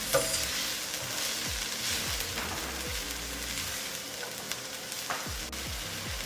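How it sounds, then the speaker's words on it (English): Bell peppers and onions sauté in a pan with a constant bright sizzle, while a utensil stirs and scrapes through them in repeated strokes, close and steady throughout. "bell peppers and onions. Give it a mix until it is fragrant, about 2 minutes."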